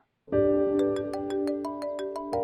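A mobile phone rings with a call from an unknown number, a bright repeating melodic ringtone that starts abruptly after a moment of silence and carries on close and clear, with no voices over it.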